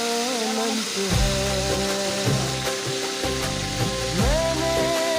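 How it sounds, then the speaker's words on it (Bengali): Whole uncut rohu fish frying in hot oil, a continuous sizzle with a few louder surges and clatters throughout, and no talking. "মাছটা এখন ফ্রাই করব। গরম তেলে ছেড়ে দিয়েছি।"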